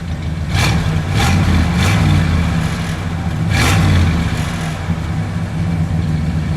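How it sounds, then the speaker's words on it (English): A 1970 Ford XL Sportscoupe's 429 cubic-inch V8 revs up several times over a steady idle, loud and close, with deep rumbling bursts. "Go ahead, give it a rev."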